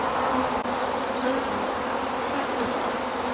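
Honey bees buzzing around an open hive being split into nucs, a dense, continuous drone of many insects close by, steady and fairly loud with no speech.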